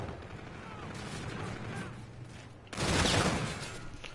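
Gunfire in a PS4 first-person shooter, rapid bursts of rifle fire under constant game noise, growing louder and denser partway through.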